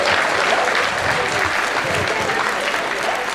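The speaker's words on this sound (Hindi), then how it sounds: "भाई साहब के लिए ताली बजाओ एक बार जोर से।" Steady, dense applause from an audience at a Hindi kavi sammelan poetry gathering, loud and continuous throughout with no break or talk over it.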